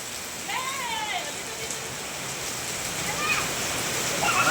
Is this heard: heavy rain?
yes